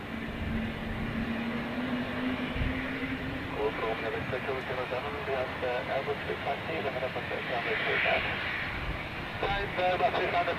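An Airbus A330 airliner at Zurich airport, heard as a steady distant engine roar with a rising whine, while a voice talks over it throughout.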